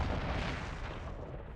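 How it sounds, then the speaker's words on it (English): A single muffled explosion rumbles in the Ghost Trick Phantom Detective game, a short low boom that fades over about a second and a half. "I think I heard an explosion somewhere."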